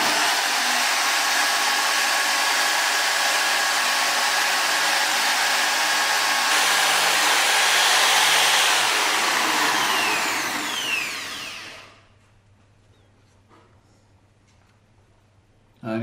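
An MS3001 wetstone chisel sharpener runs with a steady, loud whirring grind that holds for about twelve seconds, then cuts off and winds down into near silence.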